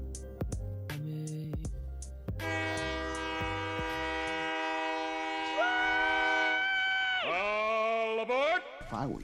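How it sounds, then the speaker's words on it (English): A departing-train sound effect: a few short tonal blips, then a long, loud, multi-tone horn chord that holds steady before bending and falling in pitch near the end. "As you heard the conductor, it's time for the train to leave the station."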